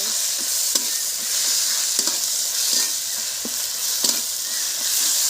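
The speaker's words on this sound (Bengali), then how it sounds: "পেঁয়াজটা আমার হাফ ভাজা হয়ে গেছে, দিয়ে দিচ্ছি রসুন। রসুনটা 2 মিনিট নেড়ে নেব" Chopped garlic added to half-fried onions sizzles in hot oil in a kadai and is stirred, giving a steady bright hiss with sharp spatula scrapes and clacks every second or so, close and alone.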